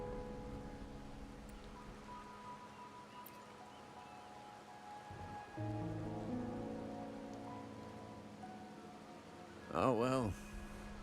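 Steady rain on surfaces in the video game Wuthering Waves, a soft continuous wash that runs the whole stretch at low level, with a brief louder swell near the end.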